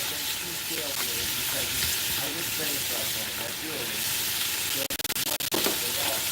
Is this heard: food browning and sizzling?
yes